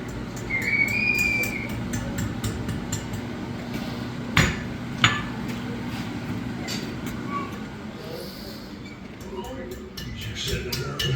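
A blacksmith hammers a lid lifter hook for a Dutch oven on the horn of an anvil, giving two sharp metallic strikes about half a second apart over a steady background hum.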